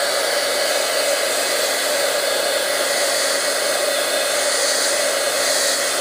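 A hair dryer blows steadily and loudly on a stamped card background during papercraft work, a constant close whirring hiss with no voices.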